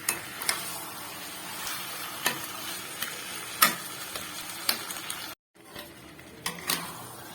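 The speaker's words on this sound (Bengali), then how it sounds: "হাই ফ্লেমে আমি এখন 2 মিনিটের মতো কষাবো।" Chicken kosa is stir-fried on high flame, a bright sizzle punctuated by repeated metal clinks of the spatula against the pan, with a brief silent gap partway through and no talking.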